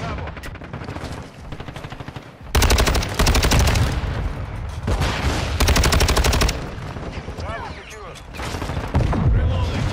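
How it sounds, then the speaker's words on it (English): Rapid automatic gunfire in a Call of Duty MWII gunfight on the Shoot the Ship playlist, dense bursts of shots close and loud, broken by short pauses, with a voice talking over parts of it. "So the thing I love about Shoot the Ship is that you're always in a gunfight."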